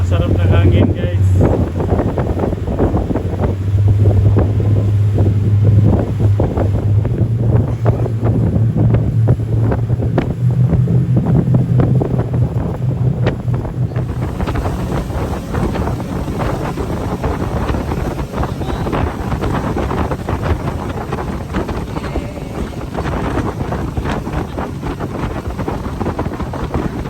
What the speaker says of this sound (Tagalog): Ah, sarap ng hangin, guys.